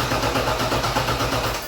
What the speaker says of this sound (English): go ahead and crank the engine for 5 seconds while watching the voltage on the multimeter